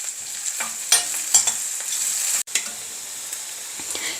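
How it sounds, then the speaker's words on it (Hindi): Garlic, green chili and ginger fry in a pan with a steady close sizzle, broken by a few louder stirring scrapes and one abrupt cut partway through. "गार्लिक, ग्रीन चिली और जिंजर अब अच्छी तरह से फ्राई हो चुका है"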